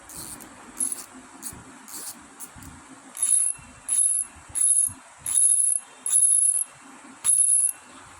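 A fishing reel's drag mechanism gives short bursts of rapid metallic clicking, several separate runs in a row. Faint rustling and handling noise fill the gaps between them.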